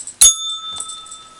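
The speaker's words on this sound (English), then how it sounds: "Mary, ring that bell again." A single bell rings out sharply once, its clear tone lingering and fading with a softer second tap, isolated in a quiet room.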